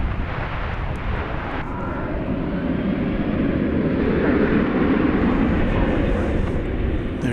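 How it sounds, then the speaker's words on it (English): An American Airlines jet bound for San Francisco passes at DFW Airport; a loud, continuous engine rumble grows slightly stronger midway and holds, with faint talk. "There goes American Flight 2447 to San Francisco"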